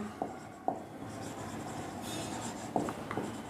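Marker writing on a whiteboard during a physics lesson, a few faint squeaky strokes and taps spaced out over a steady background hiss.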